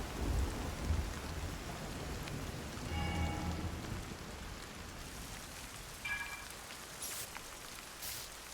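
Stormy weather in the Zelda: Tears of the Kingdom video game, with steady rain hissing throughout and low thunder rumbles swelling and fading, loud and close, with no talking.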